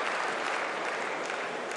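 A table tennis crowd at the German Open 2016 reacts to a heavy side-spin shot with a sustained, dense swell of noise, lasting under two seconds at a fairly even level, with no clear individual voices.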